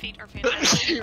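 A single sharp sneeze during a Ready or Not tactical shooter game session, sudden and close, with a voice speaking just before it.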